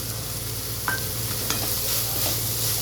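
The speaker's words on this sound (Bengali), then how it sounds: "দিয়ে আবারও ভালো করে নেড়ে চেড়ে নেব" Spices frying in butter with turmeric and black salt for butter matar chaat, a continuous sizzle under a few scraping stirs of a spoon against the pan, with no voices.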